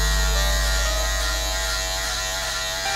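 Electric hair clippers running steadily while cutting hair for a high-top fade, a constant loud close buzz with a slight shift in tone as the blades work through the hair.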